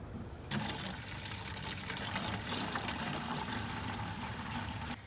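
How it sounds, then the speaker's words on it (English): Water poured into liquid worm compost tea to dilute it, a steady splashing trickle that starts abruptly and runs continuously, close and fairly loud, with no talk. "And then you're going to add water."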